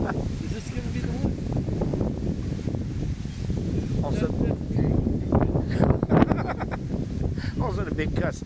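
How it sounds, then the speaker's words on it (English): Wind gusts buffet the outdoors ahead of a storm, a steady rough rumble and rustle filling the whole stretch while a person talks throughout. "Also, a big gust of wind comes and knocks this boat over."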